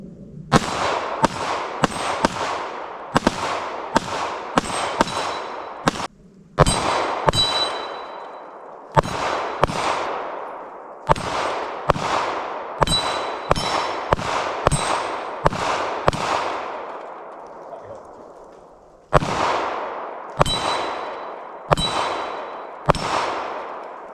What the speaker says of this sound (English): So shooting at 6-inch targets this far away really helps you tighten up your shooting abilities.